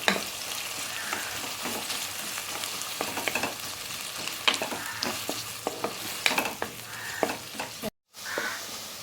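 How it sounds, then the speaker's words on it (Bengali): A large chopped onion sizzles steadily in hot oil while a spoon stirs and scrapes through it every so often, the frying the base for a chicken curry cooked with figs; no voices, close and continuous. "এখন আমি এর মধ্যে একটা বড় সাইজের পেঁয়াজকে কুচিয়ে নিয়েছি দিয়ে দিচ্ছি পেঁয়াজটাকে আমি ভেজে নিচ্ছি"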